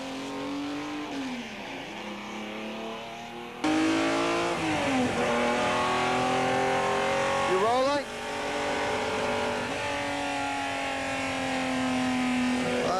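A Ferrari LM race car laps the Laguna Seca circuit, its engine loud and close, climbing and dropping in pitch through repeated gear changes and revs, with a faint tire squeal in places.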